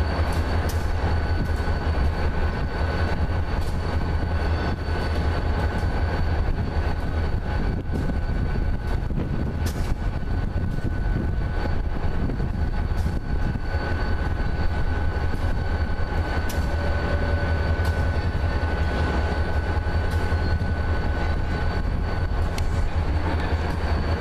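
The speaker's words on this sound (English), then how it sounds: "There's the grain train back there." A passing grain train gives a continuous, loud, steady rumble of wheels and rail cars that rolls on without a break, with faint higher rattles and squeals above it and no talking.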